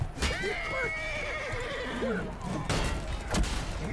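A horse whinnies in the medieval combat game Chivalry 2, a rising and falling neigh over constant battle noise with sharp impacts and clatter, and a voice talks faintly beneath.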